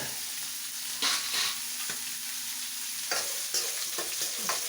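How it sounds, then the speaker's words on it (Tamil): Chana dal, cashews and home-roasted peanuts being sautéed in a pan, a steady sizzle broken by repeated scraping and rattling stir strokes at irregular intervals, no talking. "கடலைப்பருப்பு, முந்திரி, வேர்க்கடலை இதெல்லாம் சேர்த்து இப்படி நல்லா வதக்கி விட்டுக்கோங்க"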